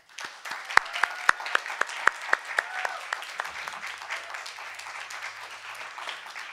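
An audience at a music recital claps for several seconds, with a few sharp, loud claps standing out early before the applause settles into a steady, softer patter.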